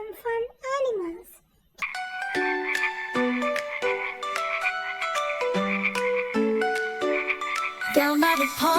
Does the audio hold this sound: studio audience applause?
no